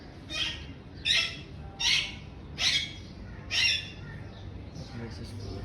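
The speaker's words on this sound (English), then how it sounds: "These are the cocktail parrots" Five loud, harsh squawks from cockatiel parrots kept at home, spaced about a second apart, then the calls fade to quieter chatter over a low background hum.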